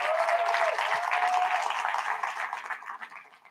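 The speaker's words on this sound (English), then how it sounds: "So a big round of applause." A big round of audience applause at a national student exposition: loud, dense clapping from a crowd that holds steady and then thins and tapers away over a few seconds, with no talk over it.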